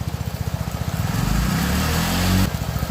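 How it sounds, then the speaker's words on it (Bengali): A motorcycle engine starting on a flooded road in town, running as a steady chugging idle with a regular pulsing beat that rises briefly before cutting off near the end, close and loud with no talk. "বাইকে স্টার্ট দিছে বাইকে স্টার্ট দিছে"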